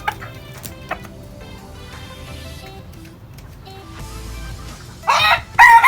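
A gamecock broodcock rooster crows near the end, a loud, close call following quieter clucks and faint background sounds.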